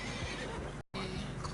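A horse neighs loudly in snowy terrain in Red Dead Redemption 2, the whinny filling the short clip before a brief dropout and continuing with game ambience.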